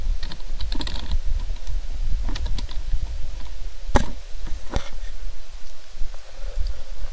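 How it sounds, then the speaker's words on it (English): Keystrokes on a computer keyboard, a few sparse, irregular taps over a steady low background hum, no talking. "And you guys could just type over here."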